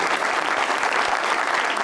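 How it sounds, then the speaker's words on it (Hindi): A studio audience on a Pakistani television talk show breaks into applause, a dense, even burst of clapping from many hands that stays loud throughout the brief moment. "मैं तालियां बजाऊं"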